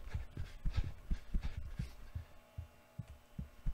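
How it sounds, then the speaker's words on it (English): Rhythmic panting breaths of a character running in a Roblox horror game, a steady series of soft, pulsing puffs about twice per second over a low game hum. "that breathing sound when running, that kind of adds to the suspense"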